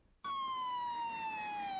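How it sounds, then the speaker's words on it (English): A single emergency siren sounds loud and close after a brief quiet start, holding a long steady wail that slowly dips in pitch. "what we heard were the haunting sounds of sirens"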